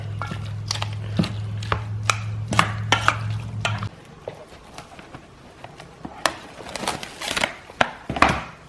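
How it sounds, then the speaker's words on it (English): Sliced ribeye beef and onion being tossed together by hand for Korean bulgogi, with a low hum for the first few seconds and then repeated soft, moist slaps and squelches that come at an irregular rhythm, close up. "Mix it all up."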